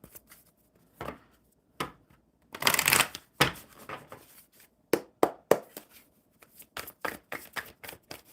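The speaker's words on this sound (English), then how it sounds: "One more shuffle." Tarot cards being shuffled close up, with bursts of riffling and softer taps and slides between them, a longer riffle in the middle.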